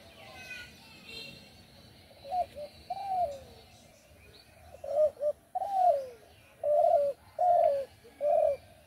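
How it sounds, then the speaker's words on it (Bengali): A dove coos close by in a garden, its soft hollow notes coming in a run of short calls that turn into three evenly spaced coos at the end, over quiet outdoor background. "কি সুন্দর, কাছে বসেই ঘুঘু ডাকছে,"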